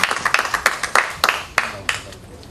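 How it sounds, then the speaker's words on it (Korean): Scattered hand claps from a small group at a Korean party caucus meeting, uneven and brief, mixed with some background voices. "박수 한번 칩시다."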